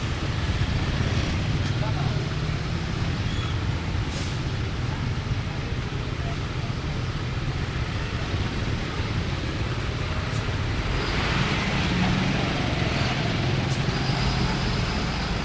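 Dense, steady roar of engines and tyres from a traffic jam at a red light in Singosari at dusk, continuous and fairly loud with no clear breaks.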